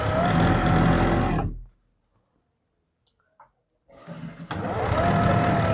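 A sewing machine stitching fabric for a collar runs in a steady whirring burst, stops for a couple of seconds of near silence with a small click, then starts stitching again.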